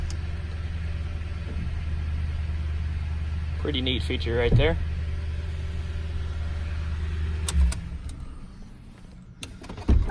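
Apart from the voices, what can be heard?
power rear window lowering in 2012 Toyota Tundra CrewMax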